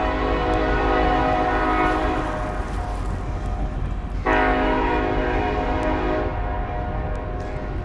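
A train rumbles past in Bellingham, Washington as its horn sounds twice in long blasts, loud and near, with steady rail noise underneath.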